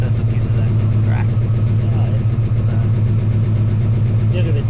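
V8 Ford Mustang idling through an XY GT style exhaust stepping from 2 1/4 down to 2 inch over the diff, a steady, loud, close low rumble with an even lumpy pulse throughout.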